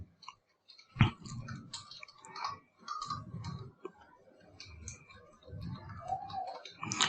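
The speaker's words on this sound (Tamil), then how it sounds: "நான் வந்து இந்த இடத்துல டைப் பண்ணிடுறேன்" Keys clicking in irregular bursts as an email address is typed on a computer keyboard, close and moderately quiet, with no talking.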